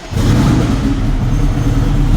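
An all-wheel-drive Honda Civic Type R engine idles rich just after a first start, a steady, loud, close low rumble with no talk over it.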